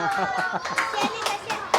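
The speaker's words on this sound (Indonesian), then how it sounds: "Tepuk tangan yang meriah." Scattered clapping from a classroom of students applauding a classmate, several short bursts mixed with children's voices over a little under two seconds.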